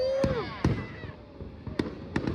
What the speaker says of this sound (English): there's supposed to be fireworks at 10 o'clock